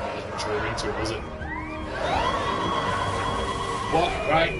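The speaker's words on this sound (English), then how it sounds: "That's the sound of the police!" Police siren wails in the video game Detroit: Become Human, with rising and falling sweeps standing out moderately under game ambience and people talking over it.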